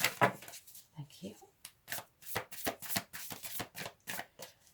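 A deck of tarot cards is shuffled by hand in quick, soft riffling bursts and slaps, quiet and close, with a voice speaking faintly at the start.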